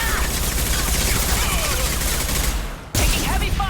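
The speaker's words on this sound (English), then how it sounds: "Taking heavy fire!" Heavy, continuous gunfire fills a firefight in the video game Mass Effect Legendary Edition. The loud barrage drops out for a moment near the end and then resumes.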